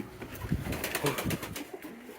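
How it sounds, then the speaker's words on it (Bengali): A female pigeon coos in a low, rhythmic series of soft pulses, close by and steady for a couple of seconds, with faint background hiss. "এই যে এটা হচ্ছে মাদি কবুতর।"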